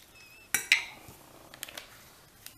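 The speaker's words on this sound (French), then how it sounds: "cuillère et vous touillez. On va y mettre 2 cuillères à soupe de citron. Donc vous remuez bien." A spoon stirring lemon juice into a salmon lasagna mixture in a bowl, two sharp clinks against the dish followed by lighter scattered taps and scrapes, close and otherwise quiet.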